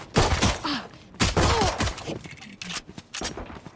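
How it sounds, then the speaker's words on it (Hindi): Gunfire in the Valorant video game comes as bursts of sharp shots and rapid volleys in uneven clusters, with faint in-game effects between them. "ओमेन को गोलियां क्यों लग रही है?"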